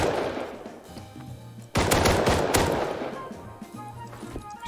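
Gun firing in a video game, rapid bursts of automatic shots loud and close, dense in the middle and tapering off, with someone talking over parts of it.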